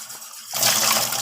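Liquid thrown out during cleaning: a sudden splashing gush that starts partway through and stays loud and broad to the end.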